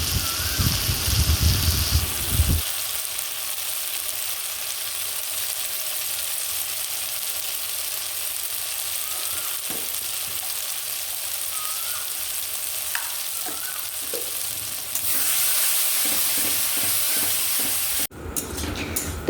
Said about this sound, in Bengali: একটু কাশ্মীরি মির্চ, একটু হলুদ, একটু লবণ দিয়ে আর একটু নাড়াচাড়া করে নেব